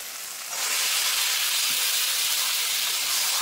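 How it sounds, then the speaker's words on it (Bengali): Washed chicken pieces drop into hot oil and fried spices, bursting into a loud, steady sizzle that rises sharply and keeps hissing evenly, with no voices. "এই ধুয়ে রাখা মাংস দিয়ে দেবো।"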